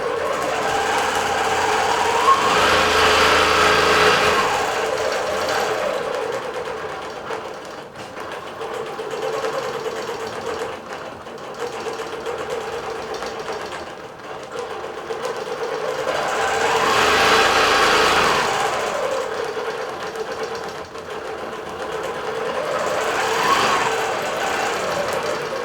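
A digital quilting machine stitches a design at 75% speed, giving off a continuous rapid mechanical whir that swells and eases as the needle head travels across the quilt.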